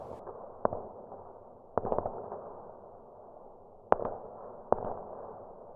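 German 80mm mortar rounds land in sharp, distant-sounding blasts, four separate thumps spaced irregularly over a low continuous rumble of battle.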